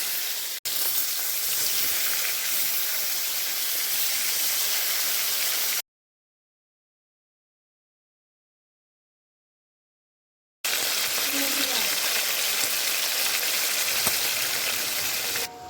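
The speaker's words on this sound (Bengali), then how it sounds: "এবারে সর্ষের তেলের মধ্যে একে একে মাছগুলোকে আমি ভেজে নিচ্ছি।" Magur catfish fry in hot mustard oil with a loud, steady sizzle and hiss. The sound breaks off into complete silence partway through, then the same dense frying noise returns.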